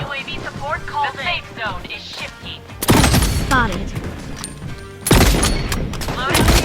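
Sniper gunfire from an M700 Seraph skin in a mobile shooter game: two loud, sharp booming shots with lingering reverb tails, spaced a couple of seconds apart, over in-game effects and someone talking excitedly.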